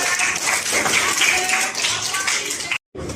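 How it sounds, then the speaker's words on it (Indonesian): Workshop participants applauding together, a dense, fairly loud wash of clapping that carries steadily for nearly three seconds, cuts off abruptly, then resumes faintly, with voices mixed in. "tepuk tangan buat kita"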